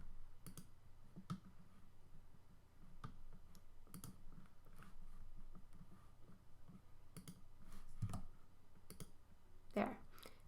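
Computer mouse clicks and keyboard key presses while working in SketchUp software, quiet and scattered at an irregular pace, under a person talking.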